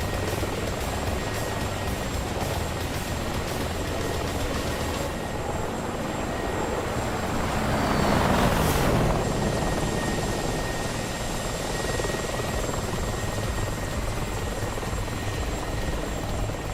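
A Mi-24 attack helicopter in DCS World beats steadily with a dense, continuous rotor and turbine roar, swelling louder as it passes close around the middle before settling back to a steady drone.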